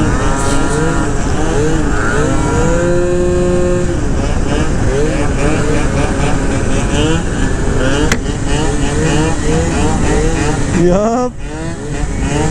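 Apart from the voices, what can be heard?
Malaguti F12 70cc scooter engine revving before seizing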